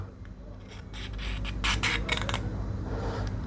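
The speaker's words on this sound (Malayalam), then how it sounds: "അതിൻ്റെ തുരുമ്പ് മാത്രം ഒന്ന് ചുരണ്ടിയെടുക്കുക" Rusty scissors blade being scraped to remove rust, a close, quiet, uneven rasping and rubbing with several brighter scratchy strokes in a row.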